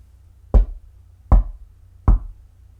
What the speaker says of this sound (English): He knocked 3 times on the door and listened.